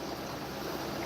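Steady, faint rush of water flowing through a homemade overhead sump in a pigpen, an unbroken low wash with no other sounds.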